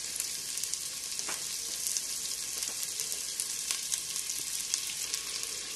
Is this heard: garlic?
yes